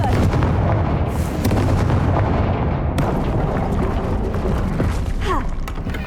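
The Confringo spell in the video game Hogwarts Legacy goes off with a loud, dense blast and booming rumble that fills several seconds, with sharp cracks within it.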